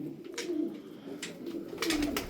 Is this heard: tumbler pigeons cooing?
yes